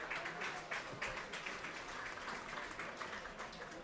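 Crowd applause rises steadily at a baseball game, welcoming a cheer fusion team before their final performance; the clapping is dense and continuous throughout, with no voices clearly standing out.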